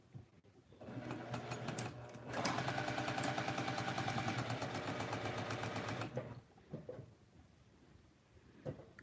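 A new sewing machine with a bobbin fault runs in one rapid, rattling burst of stitching for about four seconds, then stops, followed by a few soft clicks and handling sounds.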